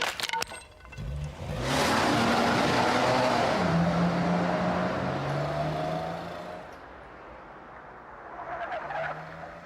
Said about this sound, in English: I heard a car pulling off really fast